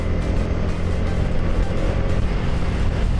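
A Yamaha R15 V4 motorcycle riding along the Dhaka–Chittagong highway, a loud steady engine drone mixed with heavy wind rush, constant and close with no voices.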